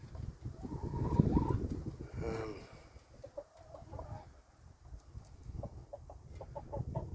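Chickens cluck in a farmyard, short irregular calls near and far, with rustling and low background noise throughout.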